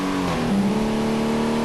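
Car engine in the driving game Real Driving Sim revving up as it accelerates, a steady rising mechanical tone with a brief shift dip, alone and fairly loud.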